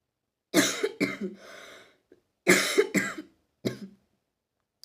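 Several harsh coughs come in two clusters with pauses between, close and loud, followed by a single shorter cough.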